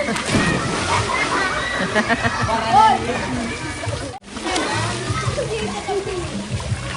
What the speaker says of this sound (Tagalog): Sarap maligo.